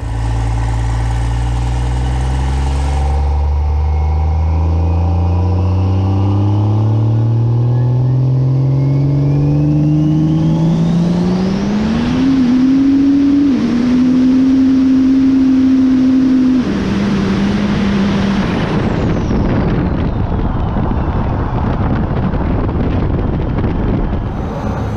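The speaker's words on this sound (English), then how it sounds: "You don't need to touch the brakes to do burnout in these trucks." A 1900-horsepower daily-driver truck roars through a rolling burnout, its engine revving steadily higher and holding a loud, sustained scream before tire noise and wind rush take over close to the microphone.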